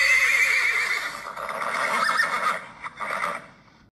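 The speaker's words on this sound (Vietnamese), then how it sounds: "review cho các bạn xem một em ngựa bạch đực đấy" A white stallion gives a loud, close neigh that trails off, followed by a shorter whinny near the end, with no talk.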